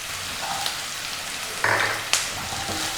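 Sliced onions and green chillies sautéing in a pan give a steady hiss of frying with a couple of sharper clatters and scrapes, close by, with no talking.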